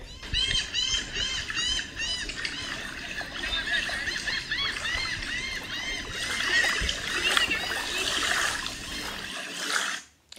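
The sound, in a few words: beach soundscape with waves and birds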